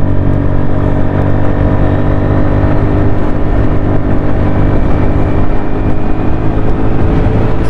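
A Hero Xoom 110cc scooter engine is held at full throttle, giving a loud, close, steady droning whine with rich harmonics throughout and no talking.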